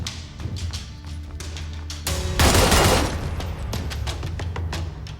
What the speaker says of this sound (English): When shooting from a standing position, there is substantial recoil and sway to contend with, especially when firing rapidly.